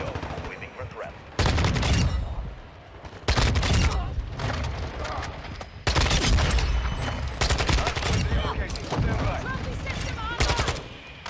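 Repeated bursts of heavy automatic gunfire in Modern Warfare 2, loud stretches broken by short gaps, with game radio chatter and a player talking through it.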